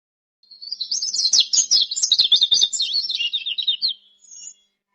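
Birds sing in a lively stream of high, chirping trills that run almost without pause for several seconds, close and clear, then trail off into a short final twitter.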